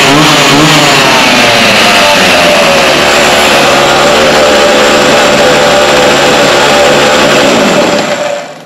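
A repaired Husqvarna engine runs loud and close, holding a steady buzzing drone with slight rises in pitch before it cuts off abruptly at the end.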